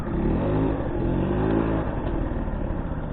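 A small motorcycle engine idles and revs steadily nearby, its throttle rising and falling in a continuous throaty drone.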